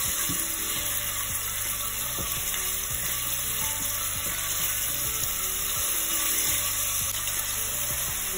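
Chopped onion sautés in hot olive oil for a creamy green pea and green bean soup, giving a steady close sizzle with faint rhythmic scraping from stirring, no talking.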